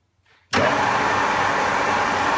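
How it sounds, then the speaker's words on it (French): A metal lathe cutting a thread as the lead screw is engaged gives a sudden, loud, steady mechanical whir and drone after a brief quiet start, continuing evenly without talk. "J'embraye ma vis-mère."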